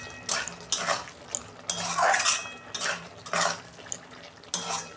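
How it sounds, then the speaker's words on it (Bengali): Lid clatters off a pot of pea dal cooked with ridge gourd, followed by repeated metal spoon clinks and scraping against the pot in an irregular close rhythm, with no talk. "দেখুন ঢাকনাটা আমি খুলছি, আমি অল্প নুন দিচ্ছি"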